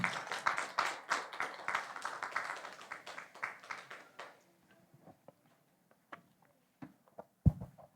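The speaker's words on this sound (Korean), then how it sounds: "박수로 모시겠습니다" Church congregation at a forum gives a round of dense hand clapping to welcome a young man to the front. It lasts about four seconds, then fades to scattered taps and small knocks in a quiet room.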